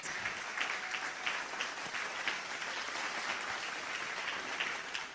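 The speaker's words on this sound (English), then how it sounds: "A strong hand clap for the journalists that won awards." Steady applause fills the hall at a national journalism awards ceremony in Uganda as the audience claps for award-winning journalists, a dense, continuous wash of many hands at moderate volume with no talk over it.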